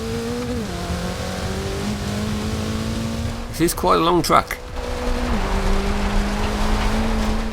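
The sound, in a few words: car engine and tires in video game Forza Horizon 2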